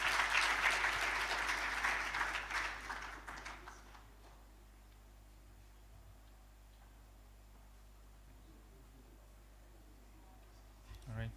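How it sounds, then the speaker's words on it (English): An audience at a legislative internship programme assembly applauds briefly, a dense burst of clapping that fades out after a few seconds, leaving a quiet room with faint background noise. "Let's applaud Mr. Honorable Osawaru Billy Adeswa"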